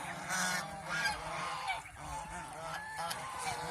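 On a goose farm, many geese honk continuously in a dense, overlapping chorus, steady and somewhat distant, with no talk.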